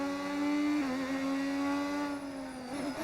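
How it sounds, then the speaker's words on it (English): Formula 1 car with an original V6 turbo engine in the racing game F1 25, a steady high engine whine holding pitch, dipping briefly and then rising again near the end, loud and close with no talking. "Which sound is this? These original V6s."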